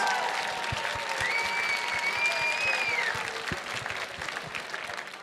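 A gala crowd applauds racers at a mountaineering benefit, a sustained, full roar of clapping that tapers slightly toward the end, with a faint whistle or cheer rising through it.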